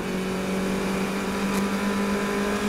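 A race car engine downshifts during a 2017 Pittsburgh Fire & Ice Majors race, a steady loud drone with one short sharp blip near the middle, heard from inside the car with no talking.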